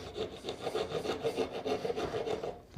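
Wood being carved with a roliça gouge, a close, fast run of rasping scrapes repeating in quick back-and-forth strokes with no pauses.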